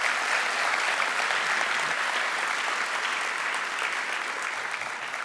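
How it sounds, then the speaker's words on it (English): An audience applauds in honour of a board president who is attending with his wife, a dense, steady wash of clapping that stays loud and even from start to finish with no voices over it. "Could we give him a round of applause"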